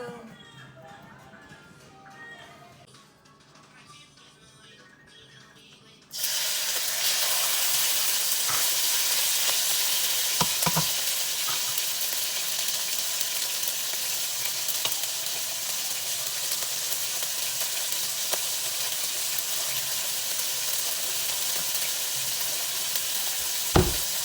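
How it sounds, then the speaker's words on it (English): Quiet murmuring gives way to a sudden loud, steady sizzle as ingredients for garlic noodles hit a hot pan, with occasional clinks of stirring. "start frying the ingredients I showed you earlier"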